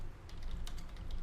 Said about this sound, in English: All we need to do here is we type in any keyword.